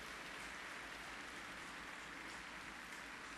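A church congregation applauds a choir, a steady dense wash of clapping from many hands throughout, fairly distant and even, with no voices.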